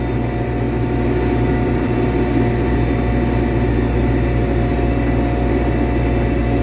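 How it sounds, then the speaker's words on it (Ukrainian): Lovol P4110 tractor pulling a seed drill while sowing soybeans, its diesel engine droning steadily with a low hum and tonal whine at constant load, close and loud, no speech. "Керується легко трактор."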